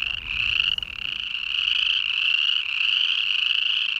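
Boreal chorus frogs in Yellowstone form a loud, steady pulsing trill chorus, continuous and close, with no voices.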